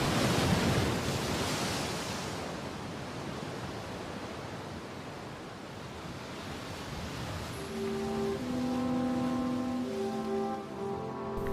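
Ocean surf breaking steadily at the water's edge where young penguins enter the sea, a broad continuous wash of waves that swells and eases, with music rising toward the end.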